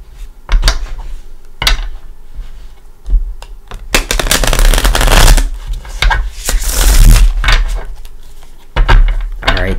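Close, papery riffling and flapping of tarot cards being shuffled in uneven bursts, with occasional taps and thumps between.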